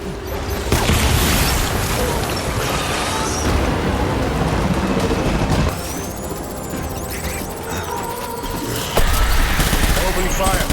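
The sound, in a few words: gunfire in the video game Death Stranding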